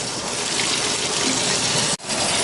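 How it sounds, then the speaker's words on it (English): Tap water gushes loudly and steadily into a cooking pot for bean sprout soup, a broad continuous rush that cuts off abruptly near the end and then resumes. "Now it's time to put water in there and heat this up for the bean sprout soup"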